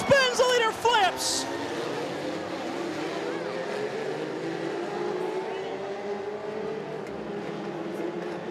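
A Legends race car spins and flips during a speedway qualifier, with race engines droning as cars accelerate past, distant and steady, and a commentator talking over the track noise.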